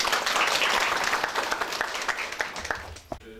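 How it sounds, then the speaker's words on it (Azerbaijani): An audience at a film presentation in Goychay applauds invited guests. Steady, full clapping fills the room, then thins and fades toward the end. "Hər birini ürəkdən salamlayıb alqışlayaq"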